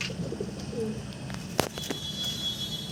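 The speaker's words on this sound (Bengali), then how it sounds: "এটা হচ্ছে মাদি পায়রা" A female pigeon coos at close range, its soft low murmurs running through the whole stretch, with a few sharp clicks or taps around the middle and faint background ambience.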